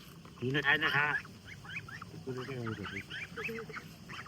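Farm ducks quack in a loud, close burst, then again in a second run of honking calls, with softer bird chatter filling the gaps, all alone without talk.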